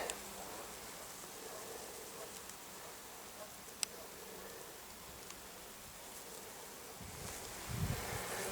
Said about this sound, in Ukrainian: бджола працює ось так на ромашках